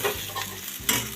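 Egg rice frying over a low flame while a spatula slowly turns it in the pan, giving soft scraping strokes over a gentle sizzle.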